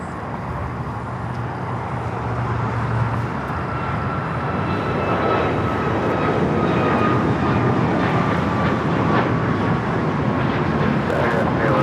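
Sports charter airliner taking off from LAX on the south side runway, a loud continuous jet engine roar building and holding steadily throughout.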